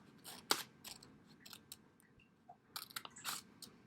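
Scissors snip through paper for a woven picture, a few sharp crisp cuts spaced irregularly, close and fairly quiet against a near-silent background.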